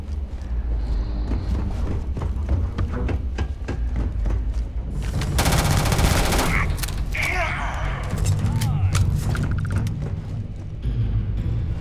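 Gunfire in the video game Starfield, bursts of shots and mechanical thuds amid rumbling combat noise, with game voices talking over parts of it.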